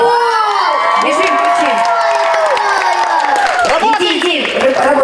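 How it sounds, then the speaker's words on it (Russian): A children's festival audience cheers loudly, with high excited voices shouting and whooping close by over scattered bursts of clapping. "Так и хлопаем."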